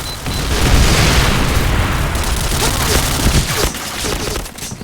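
A heavy booming grenade blast in the video game Point Blank, with rumbling debris and scattered crackles, loud and dense, fading slightly toward the end.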